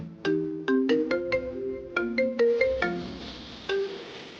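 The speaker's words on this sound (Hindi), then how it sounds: "ये किसका फोन है?" A phone ringtone plays a bright, plucky melody of repeated short tones, clear and close, ringing alone with no talk over it.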